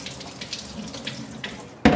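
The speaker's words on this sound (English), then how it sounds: "I'm just gonna give them a quick rinse." A kitchen sink tap rinses cherries, a soft trickle of water at first, then the flow surges into a loud splashing gush for the final moment.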